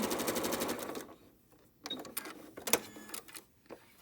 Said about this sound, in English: I'm just gonna turn right back around and stitch the other side.